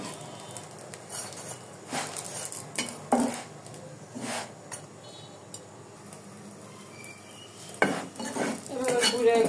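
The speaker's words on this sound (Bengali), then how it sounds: "ঘি দিয়ে ভেজে দিচ্ছি" A utensil stirs and scrapes food frying in ghee in a pan, giving irregular metallic clinks and scrapes over a faint background sizzle, close and without voices.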